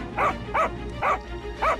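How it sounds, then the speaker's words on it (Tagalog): A dog barks four times in a steady rhythm, sharp and fairly close, with short pauses between barks. "Tuwing tumatahol si Kaka sa kawalan, alam naming may dumadaan."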